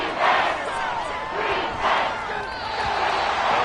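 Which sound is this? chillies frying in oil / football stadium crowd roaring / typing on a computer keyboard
football stadium crowd roaring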